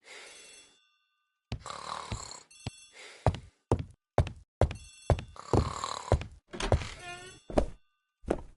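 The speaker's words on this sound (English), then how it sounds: "The telephone in the hall is ringing." A telephone rings in the hall of a house in the mystery game Agatha Christie: The ABC Murders, sounding in a series of repeated, close, fairly loud rings with short gaps between them, and no voices.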